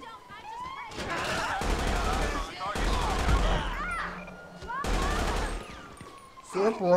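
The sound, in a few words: gunfire in video game GTA 5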